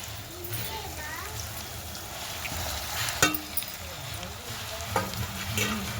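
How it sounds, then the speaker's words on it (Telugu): Taro roots go into a simmering egg tamarind curry, producing a steady bubbling sizzle, a sharp clatter partway through, then spoon scrapes and splashes as the pot is stirred. "ఇంక ఇప్పుడు శామ దుంపలు అయితే వేసుకుందాం"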